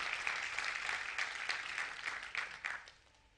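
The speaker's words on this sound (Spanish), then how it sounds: "Denle un fuerte aplauso a Dios." Church congregation applauding during a sermon, a soft, dense patter of many hands at moderate distance, swelling in a few bursts before fading out near the end.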